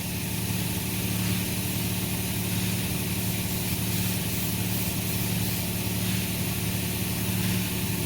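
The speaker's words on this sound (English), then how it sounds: "That's what I use here is actually a polishing wheel on a bench grinder." A bench grinder fitted with a polishing wheel runs steadily, its motor giving a constant, loud hum that stays level and unbroken throughout, with no talking.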